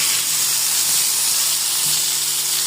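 Steady, loud sizzling of turnips frying in hot oil, a continuous crackling hiss that holds evenly throughout with no voices.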